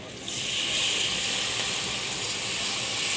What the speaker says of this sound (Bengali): দেখুন আমি গরম তেলটা দিয়ে দিচ্ছি